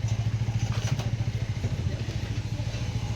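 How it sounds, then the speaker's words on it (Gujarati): A motorcycle engine runs close by at night, a steady pulsing idle that chugs along evenly and fairly loud, with no one speaking over it. "બાઇક તો ચાલુ જ રાખવાનું."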